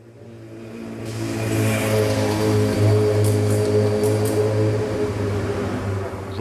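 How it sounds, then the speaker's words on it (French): Cars and other vehicles drive through the town of Brignoles with a steady engine hum that swells as one accelerates past nearby, with a continuous low rumble of traffic. "Aujourd'hui, la ville est traversée par de nombreux véhicules."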